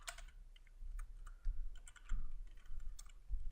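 Quiet, close clatter of a computer keyboard as code is typed, irregular bursts of key clicks with a few heavier thumps, probably the space or enter key.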